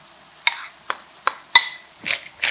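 Spatula stirring and tossing fried Spam pieces in a pan, with six separate close, crisp scraping clacks at uneven intervals and no voices.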